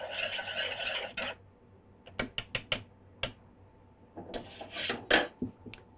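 A utensil scrapes and clinks against a bowl while flour, baking powder and salt are mixed for hoe cakes, giving a brief rattling run and then scattered taps, fairly quiet and close.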